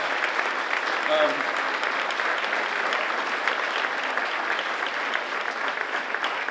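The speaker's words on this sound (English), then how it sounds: "It would be fitting if we gave a round of applause to the 8 whose campaigns ended tonight." Supporters at an election-night watch party applaud candidates whose campaigns ended, a steady wash of many hands clapping in a room, continuous and moderately loud, with a brief voice heard near the start.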